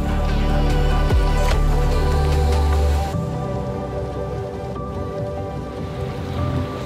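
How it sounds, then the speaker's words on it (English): Rain falls on a sailboat at sea off a cape during a solo Atlantic crossing. The patter is steady and dense under a loud low rumble of wind or engine that drops away partway through, leaving quieter rain. "It's raining, it's cloudy."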